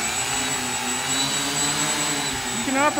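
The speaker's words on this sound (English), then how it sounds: "So now you've started your motors, you're ready to taxi out and fly." Electric motors on a control-line scale B-29 model whining steadily at close range, a sustained high hum with rising pitch near the end as the throttle comes up.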